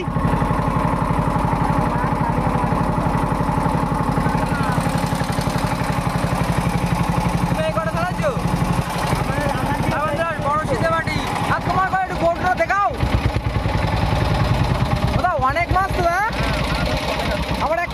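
A fishing boat engine chugs steadily and close throughout, a continuous mid-pitched rattling drone on water in the Sundarbans during light rain, while several people talk over it.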